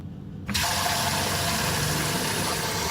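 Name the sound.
filling a bowl with hot water from tap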